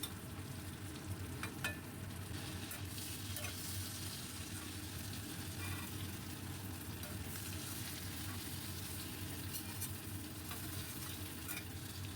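Prawns fry in hot oil with a dense, continuous hiss and crackle that stays even and close for the whole stretch, with occasional faint clinks and no talking.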